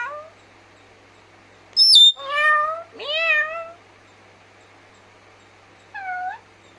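Several short, high, wavering meow-like calls from a parrot mimicking a cat, with quiet gaps between them and a final softer meow.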